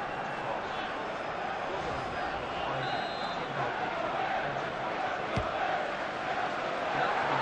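A stadium crowd in the FIFA 14 football game roars continuously as a Newcastle United corner attack goes just over the bar, a dense, sustained wash of cheering under a commentator's voice.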